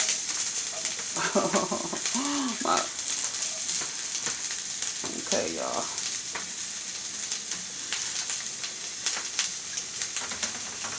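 Food sizzles and fries steadily in a pan on a home stovetop while a pot boils, a continuous hiss running throughout with brief clinks, as someone speaks over it in short remarks.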